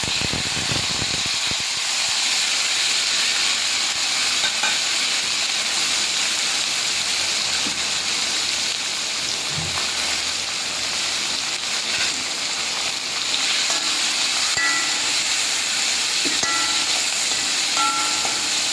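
Chopped vegetables for a rice upma hit hot oil along with dried red chillies and sizzle in a continuous loud, close hiss that runs steadily throughout with no pauses.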